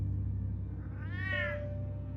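A cat in Batman: The Telltale Series lets out a single rising-and-falling meow against a steady low in-game hum, with no one talking over it.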